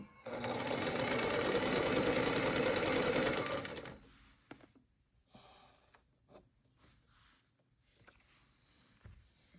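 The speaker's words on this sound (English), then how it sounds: "I'm holding it down and just sewing about 1 inch at a time." A sewing machine stitches a seam on a balloon-sleeve blouse in a steady loud whirring burst for about four seconds, then stops, leaving faint handling sounds and small movements of fabric.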